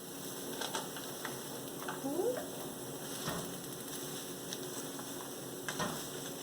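Carrots, peppers and chopped white onion cook in a pan with a faint, steady sizzle, broken by a few soft stirring scrapes and light clicks of utensils.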